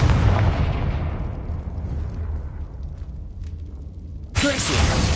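A Confringo spell blast in Hogwarts Legacy: a loud, booming explosion that rumbles and slowly decays, then a second sharp burst near the end, with no talk over it.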